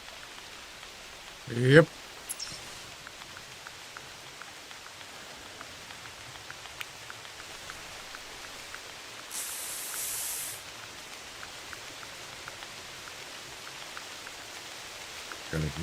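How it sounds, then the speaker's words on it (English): A steady soft hiss of rain falls in theHunter Classic hunting game, quiet and continuous, with a brief spoken word near the start. "And here and here comes the rain, of course."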